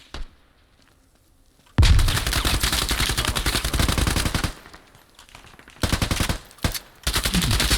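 Rapid bursts of automatic gunfire from an enemy up on a balcony in the military shooter Squad, loud and close. Long sustained volleys are separated by brief pauses and shorter bursts near the end.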